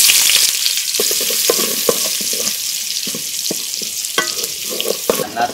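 Chopped onion fries in hot oil with cardamom, cinnamon and bay leaf: a loud, continuous close sizzle punctuated by frequent sharp clicks and scrapes from stirring.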